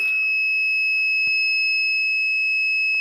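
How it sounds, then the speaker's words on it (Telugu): A school science-project anti-sleep alarm for car drivers gives off a continuous, loud, steady electronic beep tone that holds for the whole stretch, with a brief click partway through. "ఇక్కడ బీప్ సౌండ్ వస్తుంది కదా"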